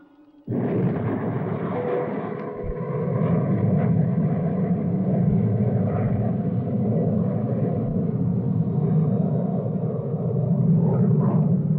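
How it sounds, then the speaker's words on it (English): A cartoon spaceship's retro rocket fires for landing: a sudden onset of a loud, steady roaring rumble that holds continuously for over ten seconds with no voices. "Firing retro rocket."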